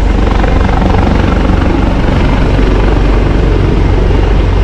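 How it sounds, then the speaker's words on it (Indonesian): Loud, close police helicopter with a constant thudding rotor chop and engine roar, steady for the whole stretch. "Ada dari pihak kepolisian tuh,"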